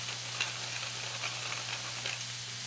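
Salt-cured pork frying in a pan for carbonara gives a steady close sizzle and hiss, with faint crackles over a low constant hum.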